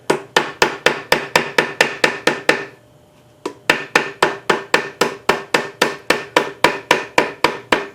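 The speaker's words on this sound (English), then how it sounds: "Then you get your hammer." A hammer taps repeatedly around a thick gasket on a Brownwall hit-and-miss engine under restoration. The blows are close and loud, a quick, even rhythm of sharp metallic strikes with one brief pause partway through.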